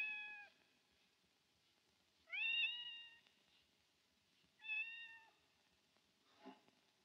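A hungry cat meows three times, each a drawn-out, clear call separated by pauses of quiet, heard close with no talk, followed by a brief soft rustle.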